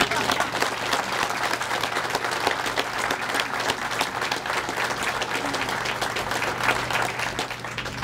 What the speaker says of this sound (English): And I just want to thank all of them, as well as our mayor, in one large applause.